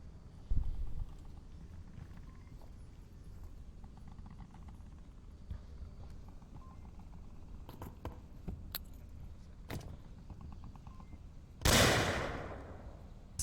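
A sudden loud flashbang grenade bursts late in a quiet stretch of the VR shooter Onward, a bright crack with a hissing decay after faint footsteps and scattered distant shots.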